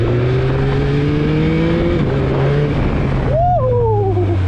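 A Yamaha MT-09 SP motorcycle accelerating hard, its engine note loud and close with rising harmonic tones, a brief dip as it shifts, then the pitch climbing again as it pulls away.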